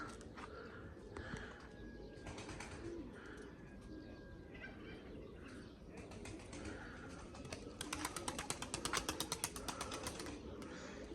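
Soft, low cooing of young smoky-coloured racing pigeons close by over a rustling background, with faint chirps and rapid clicking toward the end.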